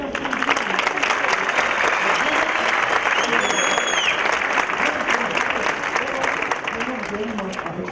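Steady, dense applause from a concert audience fills the hall, loud and unbroken for several seconds, with a faint voice underneath.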